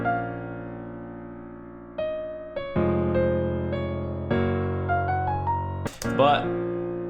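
Pitched-up piano melody for an emotional beat, playing a run of sustained notes with clear onsets and ringing decay. It stays steady and prominent throughout, with a brighter cluster of notes near the end.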